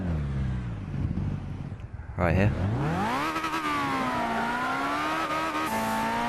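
A turbocharged race car in Gran Turismo 6 revs hard toward 10,000 rpm, the engine note rising and falling in loud sustained sweeps with a turbo whine, following a brief voice at the start.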